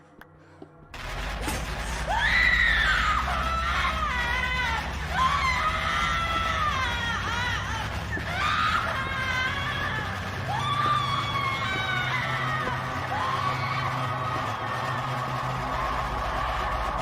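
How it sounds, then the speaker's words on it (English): Many voices scream together in long, wavering high-pitched wails that rise and fall in repeated swells over a rough, loud rumbling background for a sustained stretch. "Doesn't it sound like the scream we heard in the radio station during the interview with the Ravers when they tried to play Jay's mixtape"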